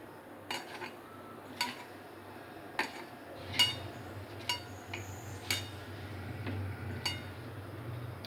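A spoon knocks against a bowl while chopped potato, onion and three green chillies are mixed by hand, in sharp separate clinks about once a second over a quiet background, with no talk.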